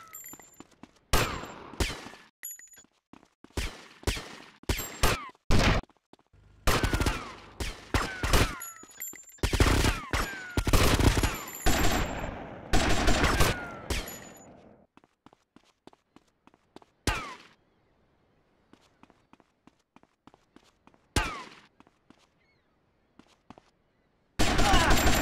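Gunfire in the PC game GTA Vice City: sharp bursts of rapid shots and single cracks, dense at first, then thinning to sparse isolated shots across a battle.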